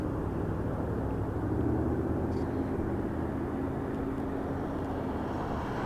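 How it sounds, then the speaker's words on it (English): A Southwest Boeing 737 departs Las Vegas Harry Reid International Airport, a loud, steady, broadband jet roar holding constant throughout without talk. "SWA 2492 heading over to Denver, Colorado. And this is going to be a Boeing 737"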